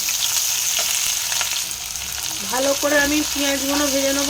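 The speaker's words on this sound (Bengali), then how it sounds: "এবারে আমি পেঁয়াজগুলো ভালো করে ভেজে নেব।" Chopped onions hiss and crackle steadily in hot oil in a pan. The close, even sizzle is briefly joined by a faint voice-like tone near the end.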